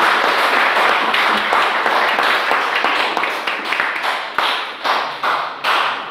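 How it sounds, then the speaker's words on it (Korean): An audience at a performance by a Korean disabled persons' music troupe applauds with dense, steady clapping that holds at full strength, then tapers into scattered bursts near the end. "우리 박수 한번 쳐드리겠습니다"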